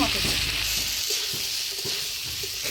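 Fried potato and cauliflower being stirred with masala in a pan, a steady close sizzle with rhythmic scraping strokes.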